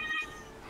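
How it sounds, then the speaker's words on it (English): A cat meows once, close and moderately loud, a short tonal call lasting under a second with no talk over it. "Oh, hello, cat."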